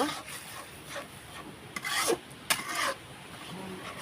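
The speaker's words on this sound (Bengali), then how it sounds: "মশলাটা ভালোভাবে এখন কষে নেব।" A spatula scrapes a pan as cumin, chili powder and garam masala fry together, with two short bursts of rasping strokes standing out from a quieter background; no one talks.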